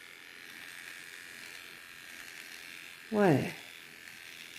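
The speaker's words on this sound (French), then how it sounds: "j'ai pris mon petit rasoir électrique. À pile, pardon." A small battery-powered electric razor runs with a thin, steady buzz throughout, and a short spoken word breaks in near the end.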